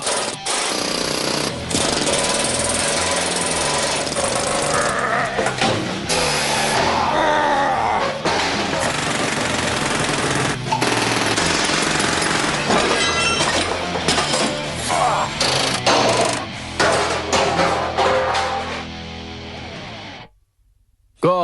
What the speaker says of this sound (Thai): ค้อนลมอัดอากาศนี้โดยพื้นฐานแล้วเป็นเครื่องเจาะมือถือ ใช้สำหรับทุบผ่านคอนกรีตเหล็กเส้นและเหล็กกล้า